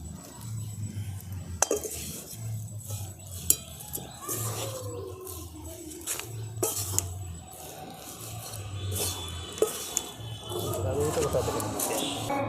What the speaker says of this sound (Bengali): ব্যাস, এরপর আমি সব একসাথে ভালো করে মিশিয়ে নিচ্ছি।